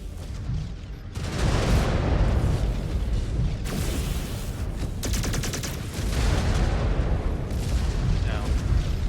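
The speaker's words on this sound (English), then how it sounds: "Incoming missile. Incoming missile." Missile explosions and heavy weapons fire in the mech combat game MechWarrior 5: Clans, a dense, loud barrage of booming blasts and rumbling impacts that runs continuously, with a computer voice announcing warnings over it.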